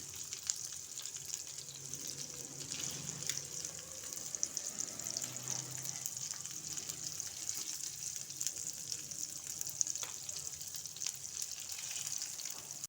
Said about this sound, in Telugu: ఇలా వేసుకుంటే ఫిష్ ఫ్రై చాలా బాగుంటుంది